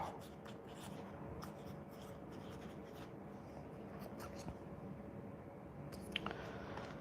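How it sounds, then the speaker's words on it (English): A pen scratches steadily across paper while a name is written, a faint continuous scribbling close up with small taps and pauses between strokes. "So I'm going to write Vernie, and I'm going to write find a safe home."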